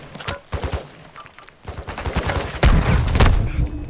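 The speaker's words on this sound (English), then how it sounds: "I hear shots over there." Gunfire in Call of Duty: bursts of sharp shots in quick irregular volleys, some distant and some close and loud, building toward heavy rapid fire with no talk over it.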